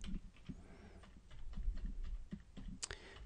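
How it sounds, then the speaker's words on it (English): Typing an email address on a computer keyboard, a string of quiet, irregular key clicks and taps close by, with one sharper click near the end and no talking. "So I'm going to type in my email address"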